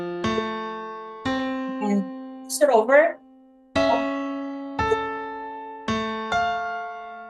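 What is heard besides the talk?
piano playing the Flintstones theme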